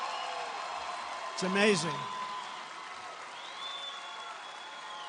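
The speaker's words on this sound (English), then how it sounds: "that always gets like the biggest applause" Rally crowd applauding and cheering at a campaign event, a broad wash of clapping that swells briefly and then settles into a steady background while someone speaks over it.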